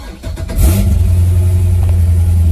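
A C6 Corvette Z06 V8 with long-tube American Racing headers cranks briefly, then fires and settles into a loud, deep, rumbling idle with a throaty burble from an open exhaust.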